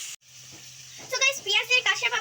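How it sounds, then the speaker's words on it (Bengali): Hilsa fish fries in hot oil in a pan at home, giving off a steady hiss. A person's voice talks over the sizzle through the second half. "মাছটাকে উল্টে দিচ্ছি দেখুন এক পাশ কি সুন্দর ভাজা হয়েছে"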